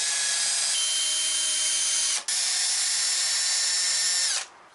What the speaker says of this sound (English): So now we've got our pilot hole through both pieces of wood.